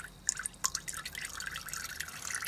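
Engine oil drains from the sump of a Holden VE Commodore with the Alloytec V6 during an oil service, heard as a close, quiet run of irregular drips and splashes that trickles along unevenly.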